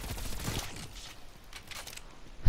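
Rapid submachine gun bursts from an MP5 in a Call of Duty Cold War zombies match, a dense rattling volley up close that thins out, then a sharp loud blast right at the end.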